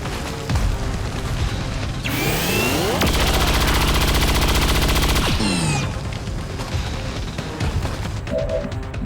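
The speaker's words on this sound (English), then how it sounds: "We'll move in and take a shot at the stun lancer first" Gunfire aimed at a stun lancer in XCOM 2, a loud burst of rapid automatic shots with mechanical whirs and booms, then fading effects.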